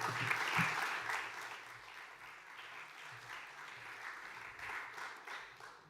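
At the close of a conference talk, an audience applauds steadily for several seconds. The clapping is dense and sustained at moderate loudness, rising and falling slightly without any voices over it.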